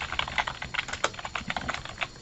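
Search terms are typed on a computer keyboard, giving a quick, uneven run of light clicking keystrokes, close and moderately quiet, with no voices.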